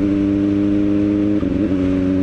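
A big-bike motorcycle engine drones loudly and steadily at low RPM, then a quick shifter gear change produces a brief wavering dip before the pitch settles again.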